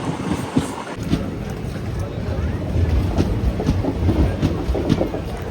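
A local train running fast on rails, with a steady broadband rumble and rattle throughout and faint rhythmic clacks, heard from on board at close range.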